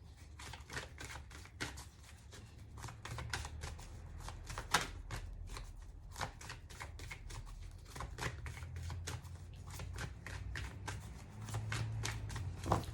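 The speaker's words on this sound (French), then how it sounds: "On va couper, on va mélanger parce que je sens pas les cartes sortir." Oracle cards being shuffled by hand, close up, a dense run of crisp riffling clicks and slaps that continues steadily throughout with no one talking.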